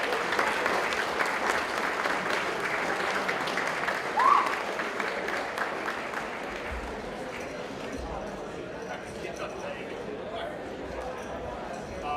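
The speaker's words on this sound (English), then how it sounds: "round of applause for Lakeland High School." A crowd at a high school esports state finals awards ceremony gives a steady round of applause, sustained clapping that holds evenly for several seconds, with a brief bright ping partway through before it thins slightly.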